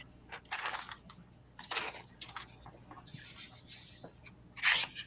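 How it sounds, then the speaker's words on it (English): A spray adhesive can being shaken while crafting, its mixing beads giving off a series of uneven, scratchy rattling bursts at close range, with faint background sounds between the shakes. "Even the sound of the shaker beads in Heather's spray adhesive that she's using."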